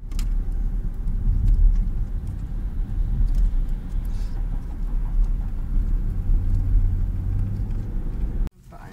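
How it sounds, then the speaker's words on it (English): A car rumbles steadily from the interior for several seconds at a constant loud, low drone, then cuts off abruptly near the end. "There's a car"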